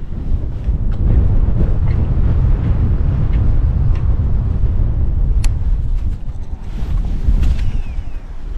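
Strong, gusty wind buffets the microphone on a boat out on the Veselovskoye reservoir in winter, a loud continuous roar with low rumbling surges and faint knocks, no talking.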